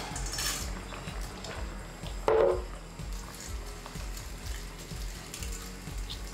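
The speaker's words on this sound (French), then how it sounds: "bien, bien, bien mélanger ses pâtes dans l'eau afin qu'elles ne collent pas à la cuisson" Pasta is stirred in a pot of boiling water, with faint scraping and clinking of a utensil against the pot over a low bubbling background and one brief louder knock.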